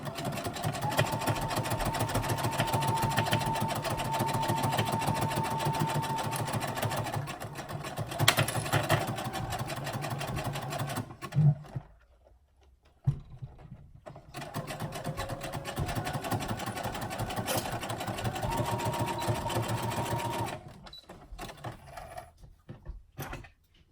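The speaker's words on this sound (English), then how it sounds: "We'll stitch the center seam with a 3/8 inch seam allowance" A sewing machine stitches a center seam through fabric pinned right sides together, running in two long steady bursts with a brief quiet pause between them.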